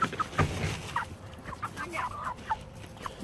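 Backyard chickens cluck softly in short scattered calls, a small flock nearby, with faint background noise.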